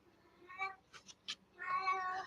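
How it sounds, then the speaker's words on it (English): A cat meows several times in short, clear calls, the first and last drawn out and the middle ones brief, fairly close against a quiet indoor room with no talk. "I do think my cat wants to join in."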